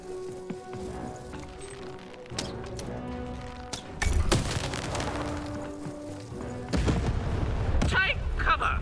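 Heavy cannon booms in the video game Lost in Random, several loud blasts mixed with clattering impacts and game music, with a character's voice speaking over parts of the action.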